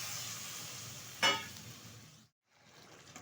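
Sizzling paneer curry hisses steadily, then water poured into the hot pan brings a sudden sharp hiss that fades and cuts out briefly before a quieter sizzle returns.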